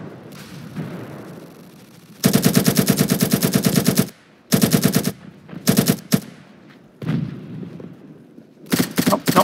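Automatic weapons fire in the video game Ravenfield, a long loud burst of rapid shots followed by shorter bursts separated by quieter gaps, close and dominant.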